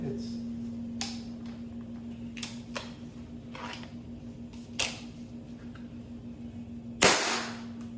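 An air gun fires several times, sharp cracks spaced irregularly over a steady electrical hum, the last shot loudest and closest, with someone talking between shots.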